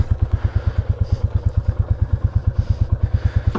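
A Royal Enfield Classic 350 single-cylinder motorcycle engine thumps along at a steady, even, rapid beat while riding. The sound is loud and close, with a deep pulsing exhaust note and faint wind noise.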